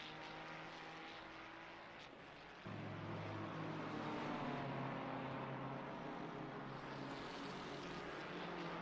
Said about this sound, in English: Just letting you enjoy the car sounds as we make our way now through these final few corners.